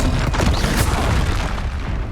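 A Confringo blasting spell explosion in Hogwarts Legacy, a loud rumbling boom with a dense burst of crackling noise that tails off over two seconds.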